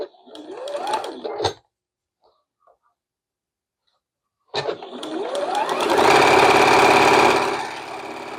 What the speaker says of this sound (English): we'll sew this vertical sashing in.